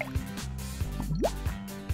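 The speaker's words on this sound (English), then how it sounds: "Then we need a few drops of red food coloring." Cartoon drips of red food coloring, a handful of separate liquid plops spaced out over a couple of seconds, plus one rising bloopy tone, with music underneath.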